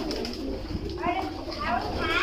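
Pigeons coo softly and repeatedly while being fed grain, low throaty calls close by mixed with a person talking.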